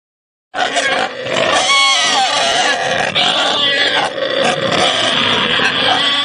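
Loud, close pig grunts and squeals, rough and repeated, starting suddenly after a moment of silence and continuing without pause.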